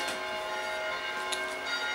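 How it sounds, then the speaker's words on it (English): Bells of a nearby church ringing steadily throughout, a dense shimmering wash of overlapping tones heard from a distance with no talk. "those are the bells of the church nearby"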